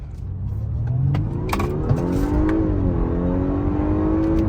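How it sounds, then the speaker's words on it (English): An Audi A5 pulls hard from a standstill toward 60 mph at night, its engine revving loud and climbing in pitch through the gears with a brief dip at each shift. "let's do a 0 to 60 pull right quick"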